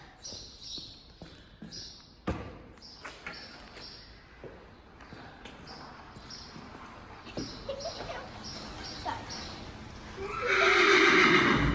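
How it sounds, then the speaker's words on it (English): A pony whinnies and calls repeatedly at a stable as its owner arrives, short neighs recurring through the scene and swelling into a loud, close call at the end, with faint stable noises between. "now the pony behind us is calling because Becca has arrived, his owner"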